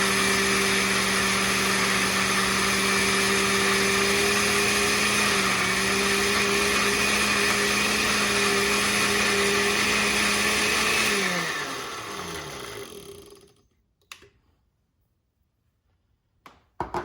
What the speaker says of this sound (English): And I have a blender.